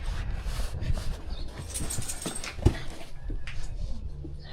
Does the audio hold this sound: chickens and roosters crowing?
no